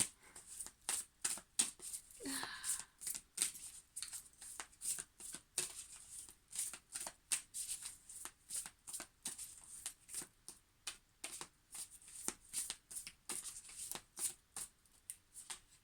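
Isis Oracle cards being shuffled by hand, a long run of quick, crisp riffling bursts repeating in steady rhythm, close and clear with no talking.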